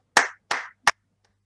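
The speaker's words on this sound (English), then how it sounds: "Can the audience join me in giving him a round of applause?" Applause at a meeting comes as three distinct, close claps in quick succession, the last one shortest and sharpest, with silence around them.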